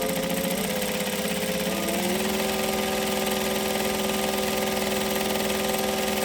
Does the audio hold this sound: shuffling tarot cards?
no